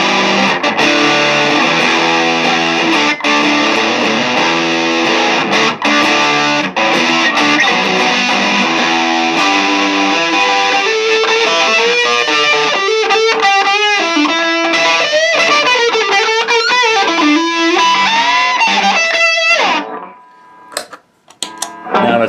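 An electric guitar runs through a Pro Co Rat vintage reissue distortion pedal with the gain cranked, playing loud, sustained, fuzzy chords and bent single-note lines that stop abruptly near the end.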